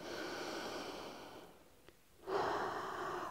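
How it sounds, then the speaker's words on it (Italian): A single deep breath, a slow inhale followed by a brief pause and a strong exhale, close and soft over a quiet background hum. "Respiro."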